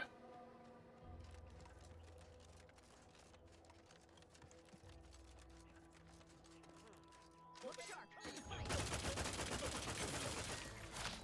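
Gunfire from a weak gun in the sci-fi RPG The Outer Worlds 2, a dense loud burst of rapid shots in the last few seconds after quieter game ambience with clicking keys.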